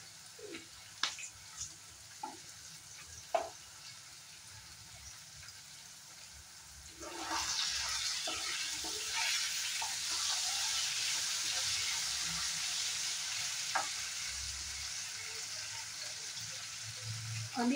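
Whole cumin seeds hit hot oil for a cabbage curry, and after a few knocks a sudden loud sizzle bursts up and keeps hissing steadily, close by.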